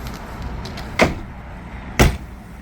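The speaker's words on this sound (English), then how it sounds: "Step out and close both halves of your door." The two halves of an Aliner A-frame camping trailer door are shut one after the other, two sharp solid thuds about a second apart, close and loud over a quiet outdoor background.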